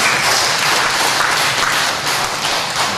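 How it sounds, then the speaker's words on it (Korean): Sustained applause from a church congregation during a Sunday service, a dense, steady wash of many hands clapping at close range throughout, with no break and no talk over it. "마사이로 청년교회장 잘 준비하라고 성원의 박수 한번 부탁드립니다"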